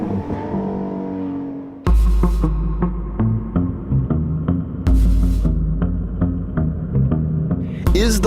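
A Ferrari LaFerrari hybrid supercar is driven hard around the Fiorano track, its engine roaring loudly and steadily, then snapping through rapid gear changes with sharp bursts as it accelerates again and again.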